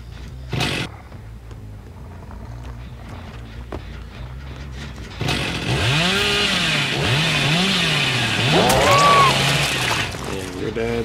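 Hillbilly's chainsaw revving loudly in the horror game Dead by Daylight, a sustained rough roar that rises and falls in pitch, with game ambience and other sounds around it.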